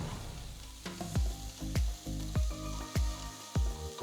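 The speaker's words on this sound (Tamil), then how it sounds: "ஒரு அகலமான பேன் எடுத்து கொஞ்சமா எண்ணெயை ஊற்றி பொடுசா நறுக்குன ஒரு பெரிய வெங்காயம், பொடுசா நறுக்குன 2 பச்சை மிளகாய் சேர்த்து வதக்கலாம்" Chopped onion and green chillies sauté in a little oil in a wide pan, giving a continuous loud sizzle with regular scraping knocks from stirring about every half second.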